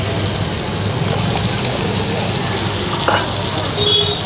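Tadka sizzling for tandoori dal at a dhaba, with red chilli and mashed tomato added to hot oil, a steady broadband frying hiss with a few brief stirring clatters, close and continuous.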